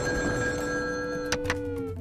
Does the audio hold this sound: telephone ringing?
yes